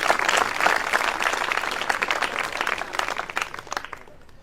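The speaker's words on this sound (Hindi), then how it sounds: "जोरदार ताड़े बजाओ बहन जी के" An audience at a comedy talk breaks into steady, loud clapping that thins out toward the end.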